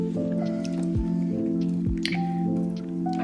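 Hot syrup is poured over a freshly baked basbousa semolina cake, giving soft wet squishing and dripping sounds in a slow irregular rhythm, close and moderately quiet over a steady background hum.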